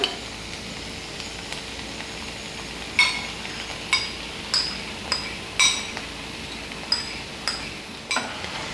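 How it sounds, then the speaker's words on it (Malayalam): Sautéed onions with sauce for chilli chicken are stirred in a pan. A spoon clinks sharply against the metal about every second over a faint steady sizzle, close by. "ഇത് നന്നായിട്ടൊന്ന് ഇളക്കി കൊടുക്കാം"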